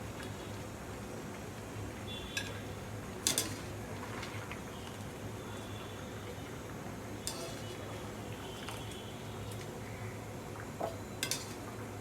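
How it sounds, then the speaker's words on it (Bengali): Boiled jackfruit pieces are lifted out of a pot, with faint, sparse clinks and taps of a utensil against metal over a low steady background hum. "এখন আমি কাঁঠালগুলো তুলে ফেলছি।"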